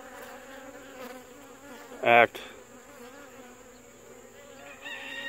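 Honey bees humming around an open hive during a queen-acceptance check, a steady low drone close by with a brief louder burst midway and a faint rooster far off.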